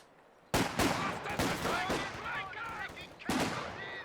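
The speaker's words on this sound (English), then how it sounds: "machine gun got everything covered at the moment" Machine gun bursts and scattered gunfire in Company of Heroes 2, a 1v1 multiplayer match; loud, sharp cracks starting abruptly, with a second burst near the end, under faint background game sound.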